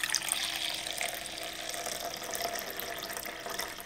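Vinegar poured out while measuring ingredients for a tripled recipe with sugar, pectin and calcium water, a steady close liquid stream splashing into a container for several seconds.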